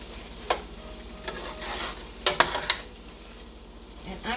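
Broccoli shrimp in hot garlic chili sauce simmering in a pan, a soft continuous bubbling sizzle broken by a few clinking scrapes of a utensil against the pan.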